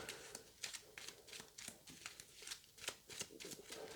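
Sleeved game cards from a Battle of Britain 1940 board game are shuffled close up, a quick series of soft, crisp riffling bursts in a rapid irregular rhythm, quiet and alone.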